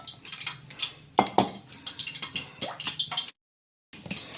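Spiced gram flour pakora batter is mixed by hand in a bowl, giving wet squelching and soft knocking sounds in an uneven rhythm, then a brief silence before the mixing resumes.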